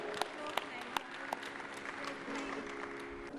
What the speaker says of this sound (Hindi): ज्योत्सना के लिए जोरदार ताली बजा दो भाई